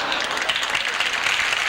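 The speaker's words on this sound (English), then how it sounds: "Let's hear it for Sonny Bono's little finger" A studio audience at a 1971 television variety show applauds, a steady, dense wash of clapping throughout the brief moment.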